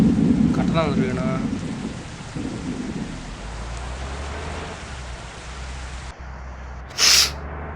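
Rain and a low rumbling thunderstorm in a bus simulator game, steady downpour hiss under a brief voice at the start, then a deep rolling rumble and a sharp bright burst near the end.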